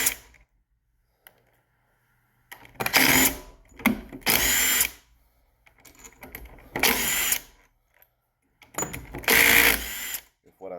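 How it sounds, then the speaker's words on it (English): A power tool whirs in four loud bursts of a few seconds each while the head is taken off a pressure washer pump, with clicks and a voice heard between the bursts. "we're going to pull this head off real quick"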